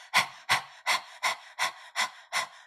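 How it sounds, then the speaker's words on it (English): A person pants rhythmically like a dog, seven quick breathy huffs in steady succession, close and fairly soft, with no talking. "I'm sticking my tongue out and I start panting like a dog"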